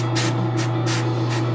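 An aerosol spray can hisses in short repeated bursts while a painted figure of Jessica Rabbit gets its shadows, each spray loud and close over a constant low hum.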